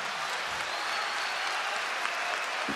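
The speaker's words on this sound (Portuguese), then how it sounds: "Uma salva de palmas." Concert audience in Lisbon applauding at a show, a steady dense wash of clapping from a large crowd, loud and continuous throughout with no voices on top.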